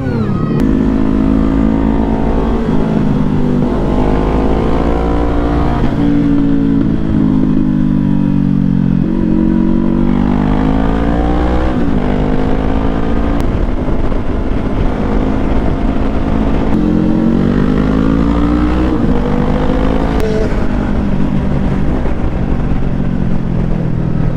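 Loud motorcycle engines roar steadily nearby, revving and shifting pitch as they pass along the road, with no talking over the din.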